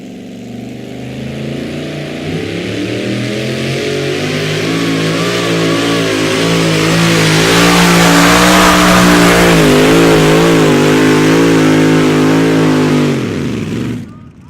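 Loud tractor pulling engine revving hard down the sled track, a sustained roaring run with rising and wavering pitch that holds for about thirteen seconds before cutting off abruptly.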